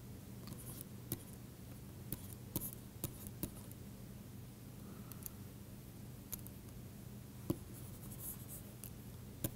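Chalk or a pen writes on a board during a physics lecture on Bohmian mechanics, giving faint scratchy strokes and occasional sharp taps at irregular intervals over a quiet room hum, with no talk.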